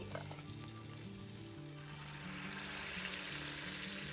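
Wheat flour batter fries in hot oil with a steady, soft, bubbling sizzle, faint and continuous, and no voices over it.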